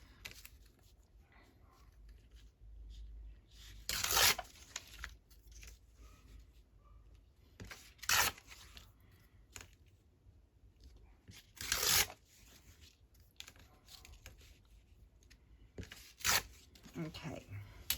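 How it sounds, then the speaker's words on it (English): Paper torn by hand for craft tags, four or five sharp ripping bursts spaced a few seconds apart, close, separated by quiet rustling and handling noise. "Let's just tear it and see."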